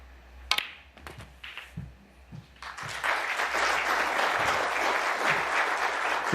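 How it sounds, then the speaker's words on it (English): At a 2024 World Grand Prix snooker match, a few sharp ball clicks and taps in a quiet arena give way to sustained audience applause that swells and holds at an even level to the end. "The applause not for Selby's routine 22. shot there, but for the fact that Cao Yupeng, with a break of 70, a clearance of 70, has taken the opening frame from Sean Murphy."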